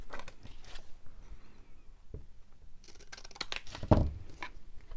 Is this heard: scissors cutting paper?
yes